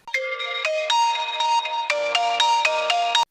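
A mobile phone rings with an incoming call, a loud close melodic ringtone of repeated bright notes playing steadily with no talking.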